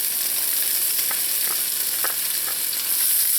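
Onions, pimento peppers and scallions sautéing in a pan give a steady, close hiss of frying with a few soft stirring taps, continuous and unaccompanied by voices.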